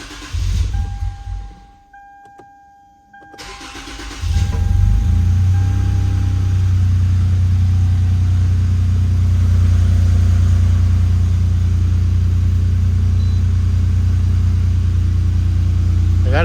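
A 2006-2013 Lexus IS350 engine cranks and catches after a brief pause following a valve cover gasket replacement, then settles into a steady, low rumbling idle that continues unchanged.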